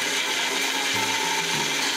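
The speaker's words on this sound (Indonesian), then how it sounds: "Azwa kan pandai pakai blender." A blender blending ginger in a home kitchen, with a steady, loud whirring grind and subtle shifts in pitch as the contents churn, heard alone without talking.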